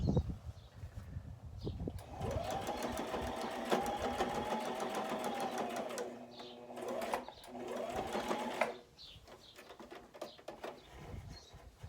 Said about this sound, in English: I'm going to sew this up.